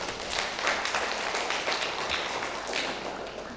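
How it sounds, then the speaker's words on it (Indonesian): Wedding guests at a Batak ceremony applaud the bride and groom, a steady broadband clapping that runs evenly through the clip at moderate volume without any voices. "Maka untuk pengantin ini mari kita berikan tepuk tangan yang meriah"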